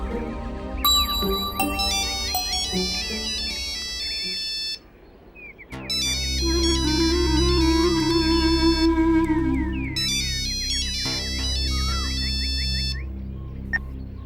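A loud electronic phone ringtone plays a bright, repeating beeping melody, briefly dropping out before resuming. No one speaks.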